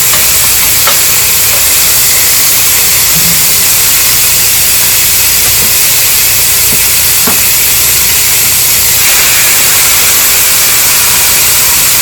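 Loud, constant sizzling hiss of meat frying on high heat for birria tacos, with a few faint clicks and taps breaking through.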